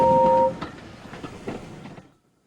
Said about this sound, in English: All he could do was watch the trains rushing through the old tunnel.